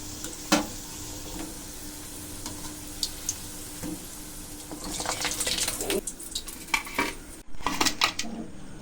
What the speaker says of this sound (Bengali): তেলটা গরম হয়ে গেছে এখন দিয়ে দেবো নাস্তাগুলো